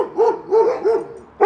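A dog on a street walk barks at other dogs, giving three evenly spaced, fairly close barks and then a sharper fourth after a brief pause, with no talking.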